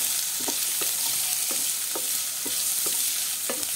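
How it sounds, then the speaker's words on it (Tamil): Chopped onions and garlic sauté in a hot pan with a constant loud sizzle, while a spoon stirs them in regular scraping strokes about twice a second. "2 வெங்காயம் எடுத்திருக்கேன் எடுத்து பொடிசா கட் பண்ணி வச்சிருக்கேன் அதையும் இதோட சேர்த்துட்டு நல்லா வதக்கி விட்டுடலாம்"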